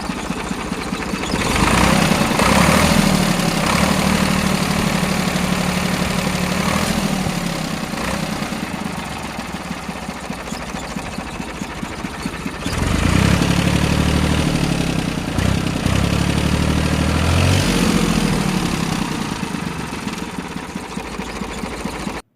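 A steady, loud Powertrac 445 tractor engine idles throughout with a low mechanical throb, rising slightly in intensity partway through, close by.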